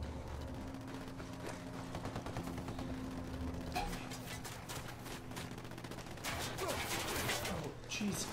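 Rebels trade fire in the video game Ghost Recon: Wildlands: dense, rapid bursts of automatic gunfire crackle continuously, growing louder and busier toward the end.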